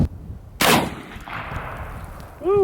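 A single loud shotgun blast hits a pumpkin up close, its sharp crack trailing into a short rumbling echo, followed by a brief voice.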